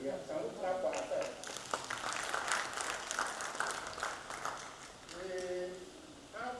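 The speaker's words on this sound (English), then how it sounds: "Can we clap for ourselves?" Audience applause at an engineering academy investiture ceremony, a soft, fairly distant spread of clapping with voices audible at the start and end.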